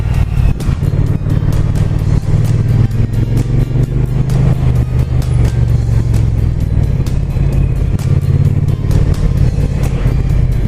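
A Triumph Bonneville 900 Street Cup motorcycle ridden on a fast road, its engine loud and close with a continuous rumbling drone and rising and falling revs, plus wind noise, no speech.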